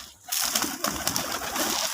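Domestic putul golla pigeons, white-breasted and white-tailed, coo at a farm loft, a close, continuous throaty murmuring that starts after a brief quiet moment and runs steadily without speech.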